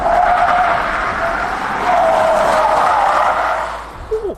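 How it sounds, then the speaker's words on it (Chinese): Loud, sustained tire squeal from an XPeng G9 electric SUV with air suspension cornering hard, pitch wavering slightly as the skid continues for several seconds. "响胎了已经"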